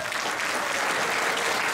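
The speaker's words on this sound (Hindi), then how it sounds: "एक बार आप तालियां बजा के बताइए" A crowd applauds at a New Year celebration poetry recital at Gupt Vrindavan Dham, producing a dense, steady wash of many hands clapping close by, with no break for about two seconds.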